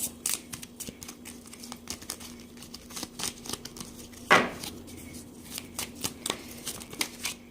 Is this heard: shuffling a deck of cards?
yes